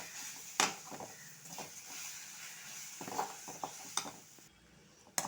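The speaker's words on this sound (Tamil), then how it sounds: "போட்டு நல்லா வதக்கணும்." Ground ginger paste sautéing in oil with chili and turmeric powder, a quiet low sizzle broken by several sharp clinks and scrapes of a stirring spoon against the pan.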